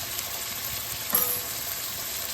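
Crab curry with potato and dry spices such as turmeric, Kashmiri chili, cumin and coriander powder sizzles softly in a pan, a quiet steady frying hiss with one brief stir.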